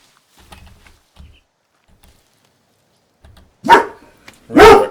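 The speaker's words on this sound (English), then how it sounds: "Sorry about the dog, folks." A dog barks indoors: two loud, close barks near the end of an otherwise quiet stretch with faint background sounds.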